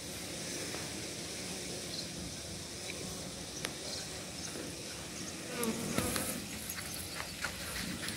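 Apis cerana honey bees buzz steadily throughout, a dense continuous drone with a faint swell near the end, no voices present.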